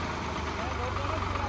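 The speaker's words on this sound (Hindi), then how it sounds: "आवाज़ बहुत बढ़िया कर रहा ट्रैक्टर।" A Swaraj 735 FE tractor engine idles close by, a steady low throbbing hum with a faint rhythmic knock running the whole time, while someone talks over it.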